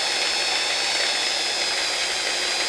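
A smooth stone rubs back and forth over a handmade paracord fid to smooth off burrs, giving a steady, close, unbroken abrasive scraping hiss with no voices.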